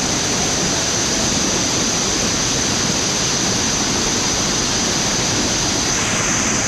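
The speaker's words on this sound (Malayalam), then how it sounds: "നല്ല എന്താ പറയുക ശക്തിയായിട്ടാണ് വീഴുന്നത്. ഇതാണ് മെയിനായിട്ടുള്ള വാട്ടർഫോൾ." Powerful main waterfall at Urulikundu in Kannur, a dense, steady roar of falling water that fills the whole clip, loud and close with no talk over it.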